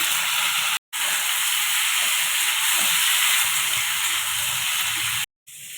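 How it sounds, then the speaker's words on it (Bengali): Beans, potatoes and carrots frying with nigella seeds and green chillies, a continuous loud hiss and sizzle broken by two brief silent gaps. "বিমস, আলু, গাজর ভাজা হয়ে গেছে"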